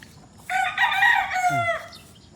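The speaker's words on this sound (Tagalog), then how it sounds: "Ang daming manok ni Kuya." A rooster gives one loud, close crow lasting over a second, rising then trailing off with a throaty break. It comes from a yard with many chickens.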